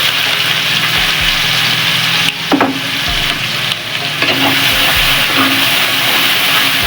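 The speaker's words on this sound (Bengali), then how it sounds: "এবার দিয়ে দেবো কুচিয়ে রাখা পেঁয়াজ।" Chopped onions hit hot oil already seasoned with cumin seeds and two bay leaves, giving a steady, loud, close sizzle that continues with stirring and scraping throughout.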